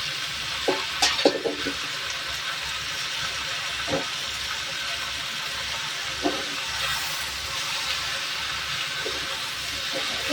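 Water spinach stir-frying in a pan with garlic and onion, a constant close sizzle and hiss broken by a few clinks and scrapes of the spatula, with no talking.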